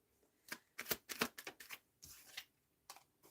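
Deck of tarot cards being shuffled, a run of quick, crisp riffling snaps in short bursts, close by but quiet, with brief pauses between riffles.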